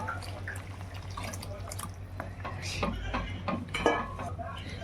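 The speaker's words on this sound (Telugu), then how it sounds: "ఇప్పుడు మనం ముందుగా తీసుకుని పెట్టుకున్న చింతపండు రసాన్ని యాడ్ చేసుకుందాం" Tamarind juice is poured into a pan of prawn masala curry, giving soft liquid splashes and drips with a few light clinks over a steady low kitchen hum.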